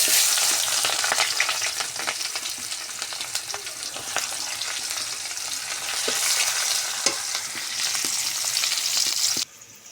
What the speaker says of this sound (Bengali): ওই তেলে আমি দিয়ে দেব কয় টুকরা দারচিনি আর পেঁয়াজ।